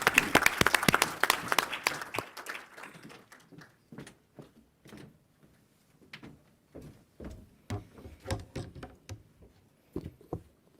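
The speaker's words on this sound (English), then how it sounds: "So can members please join me in a round of applause" An audience at a conference on displaced populations and host communities applauds, a dense burst of clapping that thins after about two seconds into scattered, fading claps.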